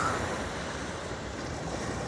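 Sea waves washing onto a shore make a continuous broadband rush with wind noise on the microphone, steady and fairly loud throughout with no talking.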